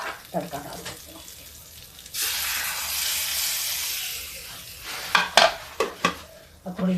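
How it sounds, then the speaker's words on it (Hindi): Chillies tempered as a tadka drop into hot oil for a black urad dal sagpahita, bursting into a loud sustained sizzle after quieter stirring, then fading into clattering spoon scrapes and sharp taps. "इसको हम एक ही तड़का डाल देते हैं।"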